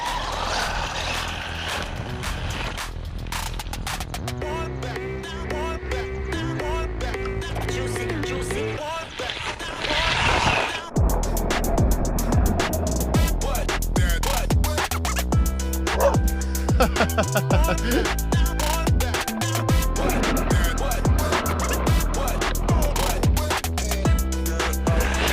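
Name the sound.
WLtoys RC car with bigger motor driving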